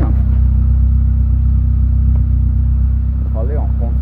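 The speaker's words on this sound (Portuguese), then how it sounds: "O escapamentinho ficou bem legal, ó. Ronquinho gostosinho" A modified car with a 1.6 MI engine rumbles at idle through its exhaust, producing a steady, loud low drone with slight engine revving, while someone talks over it.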